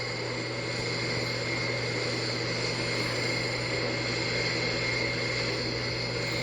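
Steady drone of an airplane in a flight simulator game, an even engine hum with constant tonal whine and no change in loudness, heard alone without talk.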